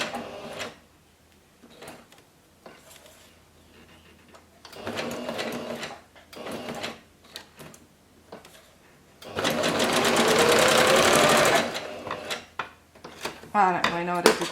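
A sewing machine stitches thick fabric scraps in short bursts, then runs in one long, loud continuous stretch near the end, with soft handling noises in the pauses between runs.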